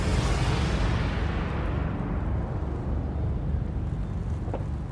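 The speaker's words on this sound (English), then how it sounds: "Fireworks in the city." A fireworks explosion in a city opens with a loud broad blast that decays into a long rumbling roar, fading steadily over several seconds with no talking.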